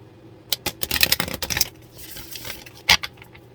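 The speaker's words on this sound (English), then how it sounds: "Let's just shuffle up, shuffle the deck." A tarot card deck is shuffled in bursts of crisp, snappy clicks and riffles, loud and close, with a short pause and another quick burst near the end.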